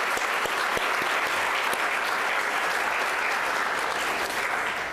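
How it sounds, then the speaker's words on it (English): A luncheon audience gives a steady, sustained round of applause for a valedictorian, many hands clapping evenly with no talk over it, filling the whole moment at a moderate distance. "So let's give him a round of applause again."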